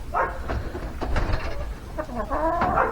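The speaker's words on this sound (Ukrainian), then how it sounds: "У нас всі кури разом з курчатами вже сюди вибігають на траву." Hens cluck in short, scattered bursts nearby on grass, a busy farmyard chatter with several birds and chicks calling over one another.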